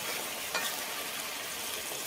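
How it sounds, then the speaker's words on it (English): A sizzling pan hisses steadily while paprika is stirred in, with a faint clink of the utensil partway through and no talk. "And we're going to stir that up."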